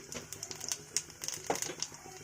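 Black cumin seeds sputter in hot mustard oil in a wok, giving quiet, irregular crackles and pops close by.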